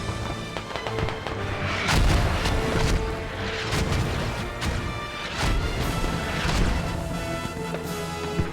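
Heavy explosions from airstrikes in the military shooter Squad, a series of loud booming crashes and impacts rolling one after another over a continuous battle din.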